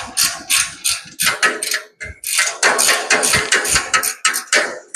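Rapid ratcheting clicks from a wrench tightening a bolt on a truck tub mount for a Ford F100, a dense close run of sharp metallic ticks in quick bursts with a short pause midway.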